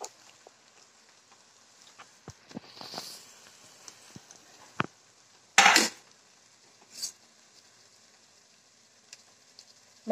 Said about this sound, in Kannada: ಮತ್ತೆ ಒಂಚೂರು ಈರುಳ್ಳಿ ಫ್ರೈ ಮಾಡ್ತಿದ್ದೀನ